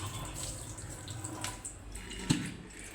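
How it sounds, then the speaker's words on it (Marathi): Water draining from washed rice through a strainer, a faint steady trickle and patter with a brief sharper splash near the end, heard alone without talk. "आता आपण जाळी ह्याच्यावर ठेवू पाणी निघायला"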